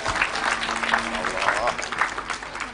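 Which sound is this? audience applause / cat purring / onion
audience applause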